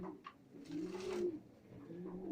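Pigeons in a breeding loft during pairing season coo in low, rolling, continuous phrases, several birds overlapping close by, with a brief higher call near the start and no talking.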